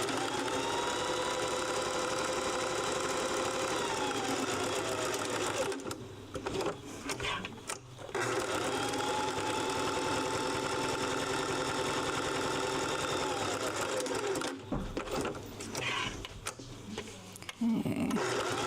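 Sewing machine stitching fabric bookmarks, a loud close continuous whir with two short pauses where the stitching stops and restarts.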